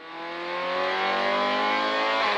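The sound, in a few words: rally car engine accelerating, onboard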